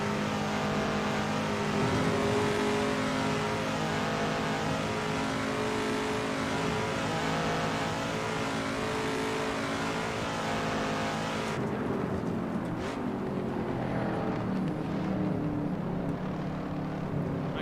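A race car engine in the Assetto Corsa racing game revs hard and holds high revs, loud and continuous, then shifts to a rougher, lower note partway through, with no talk.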